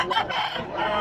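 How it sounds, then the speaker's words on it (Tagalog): Chickens clucking and crowing at a busy pet market in Bocaue, a dense steady chorus of fowl calls lasting about a second, close and fairly loud. "Ang daming mga manok."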